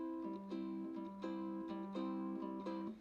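Ukulele strings plucked with the fingertips in a repeating rhythmic accompaniment pattern, the notes close, clean and moderately loud, with no voice over them.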